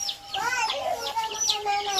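Free-range village chicks in a coop facing the sunrise, chirping in a steady stream of high, close peeps, with some soft clucking underneath.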